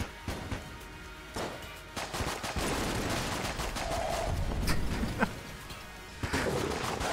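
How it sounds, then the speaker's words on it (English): A portal gun in the video game Mod the Gungeon firing bullets, heard as a run of rapid, sharp shots and bursts over a continuous noisy background of game effects, with no talking. "At least with portal gun, I can shoot bullets."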